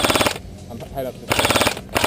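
Airsoft guns firing outdoors during a skirmish: rapid automatic bursts of sharp, rattling shots in two volleys with a short gap between, close and loud, with a voice briefly heard in the pause.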